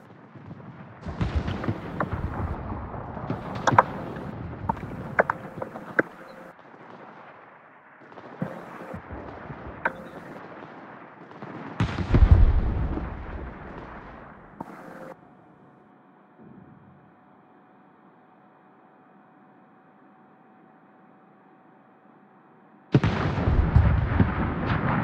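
Naval battle in a warship video game: repeated booming gun salvos and explosions in clusters, some loud and close, separated by quieter stretches of low rumble, with a final heavy barrage.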